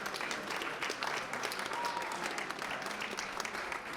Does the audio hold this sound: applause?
yes